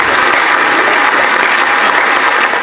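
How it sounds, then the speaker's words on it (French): A dense, steady wash of applause from an audience at a 50th birthday celebration, loud and continuous throughout with no pauses. "On acclame."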